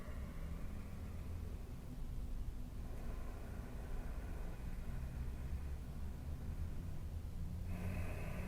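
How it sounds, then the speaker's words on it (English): Slow, deep breaths in and out during a quiet yoga session, heard as soft airy breathing sounds over a faint background hiss, with no talk. "Breathe in deeply and exhale deeply"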